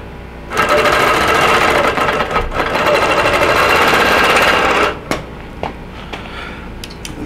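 A quilting machine stitches concentric basting with thin soluble thread, a loud, fast, steady mechanical chatter running for several seconds before stopping, followed by a few sparse clicks and taps.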